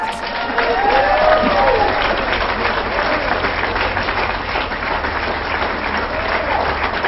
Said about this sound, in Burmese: လက်ခုပ်ကြီးကြားတယ်